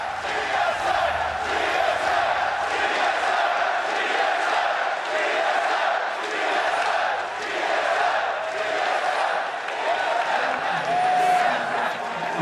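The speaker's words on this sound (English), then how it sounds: "Sometimes you have to take a step back and appreciate the crowd." Large arena crowd at the 2016 League of Legends World Championship group stage, a steady loud roar of cheering and shouting that fills the whole stretch without letup.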